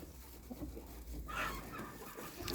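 A brooding hen sitting on eggs gives faint low clucks and a brief muffled squawk, quiet and close with some handling rustle.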